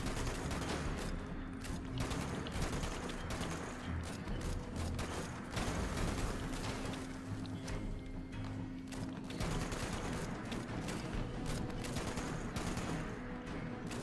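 Gunfire in a firefight against raiders in the game Fallout 76 keeps up a dense, continuous stream of rapid shots and bursts, loud and close, for the whole stretch.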